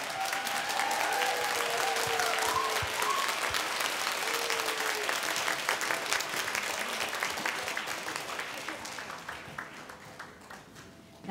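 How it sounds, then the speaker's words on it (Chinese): A concert audience claps after a choir evening of older singers, a children's choir, a folk-song group and a band. The applause is dense and sustained, with a few voices early on, and slowly thins and fades toward the end. "我们再次用更热烈的掌声来给我们的小朋友、我们的儿童团，还有我们的民歌团以及后面的乐队"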